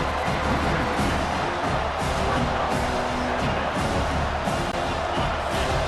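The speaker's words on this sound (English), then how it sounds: "It's early, but this crowd is fired up. Listen to this noise here." Broad, steady roar of a stadium crowd at an LSU vs Auburn college football game, dense and continuous without breaks.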